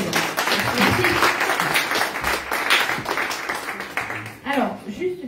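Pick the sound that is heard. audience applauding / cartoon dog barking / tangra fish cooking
audience applauding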